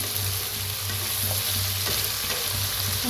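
Beans and carrots being stirred in a hot pan while cooking sambar, a steady scraping and sizzling that carries on continuously and fairly close, with no talking.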